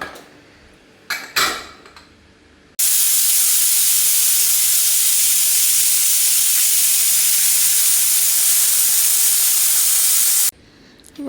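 A pressure cooker cooking biryani vents steam in a loud, steady hiss lasting about eight seconds, preceded by brief clatter of pots and utensils and followed by quieter kitchen sounds.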